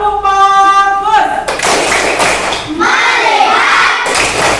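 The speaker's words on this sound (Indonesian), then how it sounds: "Tepuk fokus." A classroom of students performs a rhythmic focus clap, a short patterned burst of group clapping with chanting voices, following a teacher's call at the start of an Indonesian lesson.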